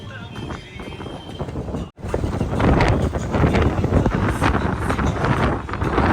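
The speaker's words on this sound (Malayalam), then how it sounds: "നല്ല കാറ്റുണ്ടാവും കേട്ടോ" Strong wind buffets the microphone in loud, rumbling gusts, with a brief dropout near the start and a faint voice early on.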